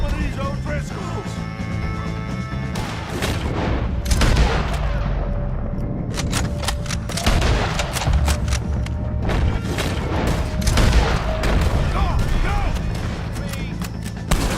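Gunfire in Red Dead Redemption 2 while shooting O'Driscoll gang members: loud, dense bursts of rifle and pistol shots with booming reports, crowded together in rapid volleys, short pauses between clusters.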